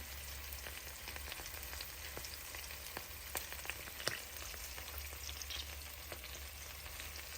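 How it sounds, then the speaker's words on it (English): Steady crackling sizzle of salmon frying in hot oil, with scattered pops and spits, close up and continuous. "My fish is frying, it's coming together gradually."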